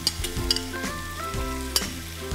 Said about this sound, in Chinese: 这个锅子就是稍微把这个肉片煎一下